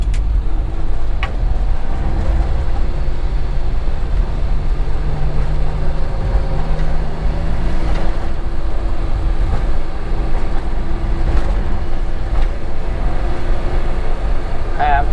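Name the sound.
Suzuki Carry engine idling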